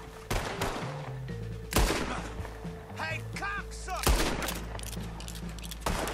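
Several sharp gunshots from non-player characters in Red Dead Redemption 2 crack out at irregular intervals, loud and close, with someone talking between the shots.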